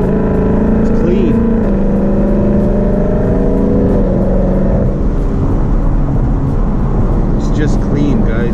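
A 2018 Ford Mustang GT V8 with an H-pipe exhaust drones steadily while cruising under light acceleration, a continuous loud engine tone heard from inside the car with someone talking over it.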